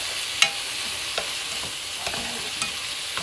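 Bean sprouts being stir-fried for yakisoba, with a soft steady sizzle and a few sharp utensil scrapes and taps against the pan, close and alone with no talking.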